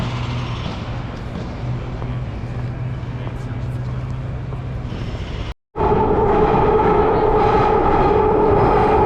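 A London Underground train rumbling along the track with a steady low drone and wheel noise, loud and close, broken by a brief cutout before a brighter, harsher running tone resumes; no one speaks.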